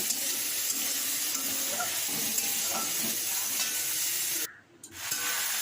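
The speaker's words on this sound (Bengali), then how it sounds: "চিংড়ি মাছের চচ্চড়িটা বসানোর জন্য আমি চিংড়িটা ভেজে নেব" Prawns frying in an open pan for a Bengali chorchori, a dense even sizzle with light stirring clatter close by, cutting out briefly near the end before resuming, no talk.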